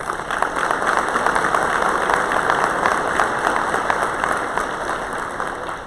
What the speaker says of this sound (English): can we give this team a round of applause?